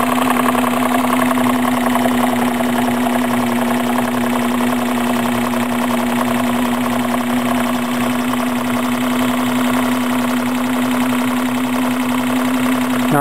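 A small engine fitted with a displacement lubricator runs steadily after starting, a constant, loud, even hum with a strong steady tone and faint rhythmic knocking underneath, with no voices.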